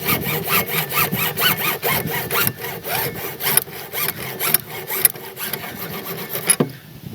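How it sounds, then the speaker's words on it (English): A hand saw cuts through PVC pipe in steady, quick back-and-forth strokes, close and fairly loud, ending as the blade finishes the cut. "Now we're going to cut these 2 feet off of our main section of pipe."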